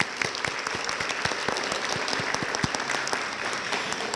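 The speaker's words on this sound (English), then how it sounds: "So let's give ourselves a huge round of applause." A school crowd at a student-of-the-quarter ceremony gives a sustained round of applause, a full, even wash of clapping with sharper nearby claps standing out.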